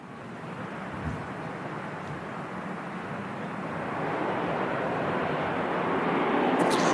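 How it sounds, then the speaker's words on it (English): An Aer Lingus ATR 72 turboprop, operated by Emerald Airlines in from Dublin, lands at Manchester Airport. A broad, distant engine rumble with some wind noise slowly grows louder and nearer. "next in to land Aer Lingus, operated by Emerald Airlines in from Dublin, ATR 72"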